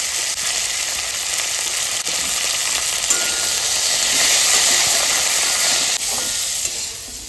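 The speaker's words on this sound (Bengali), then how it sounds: "এইবারে সজনে ডাঁটাটা ভেজে নেব এবার লবণ দিয়ে দেবো হলুদ" Moringa drumsticks fry loudly in hot oil with salt and turmeric, a dense, continuous close sizzle with light stirring, briefly easing near the end; no speech.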